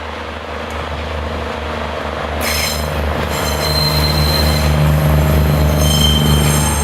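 Two Pacer diesel units run through urban Porth in the Rhondda Valley toward Treherbert. Steady, loud wheel squeal and a rumbling rail roar build and hold throughout, with no voices.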